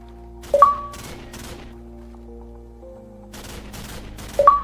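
Gunfire from a shooter video game match, heard as two short bursts of shots, one early and one near the end, over a steady hum of background game noise.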